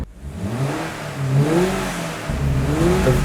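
A 2022 Subaru BRZ engine revs up and down in a couple of rising and falling swells, heard close and fairly loud with a low rumbling drone underneath.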